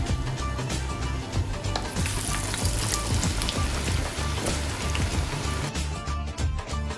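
Potato pakoras fry in hot oil, a loud, dense, steady crackling sizzle close up that holds throughout with slight swells, with no speech over it.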